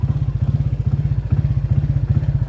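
A stock Honda PCX motorcycle engine pulls steadily while riding, with a fast pulsing low throb, close and continuous, carrying a faint mechanical clatter under it.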